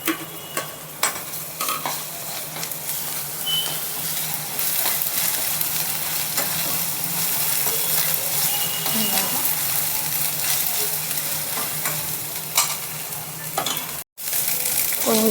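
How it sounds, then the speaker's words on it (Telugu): Ginger paste frying in a pan while cooking pasta, a dense continuous sizzle with occasional clinks and scrapes of stirring, close up and fairly loud, with a brief dropout near the end. "ఇలా ఫ్రై అయిందండి. మన అల్లం పేస్ట్"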